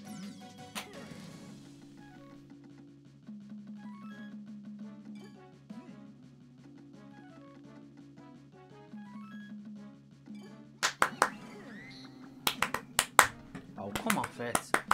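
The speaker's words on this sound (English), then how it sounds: "I literally was clapping and it was just like, nah." Hand clapping used to control Donkey Kong Jungle Beat. A run of sharp, irregular claps and snaps bursts out near the end, over steady, quiet game music that plays throughout.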